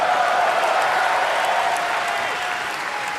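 Sustained applause from a live audience at a game developer presentation about World of Warcraft's The War Within, steady and dense throughout, easing slightly toward the end.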